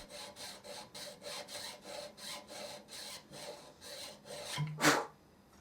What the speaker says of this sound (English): To file the notches into the bridge saddle, I put my file into a vise.